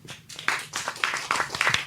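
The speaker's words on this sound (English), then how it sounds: "Round of applause, guys." A studio audience breaks into a short, close round of applause, with brisk irregular clapping lasting about two seconds.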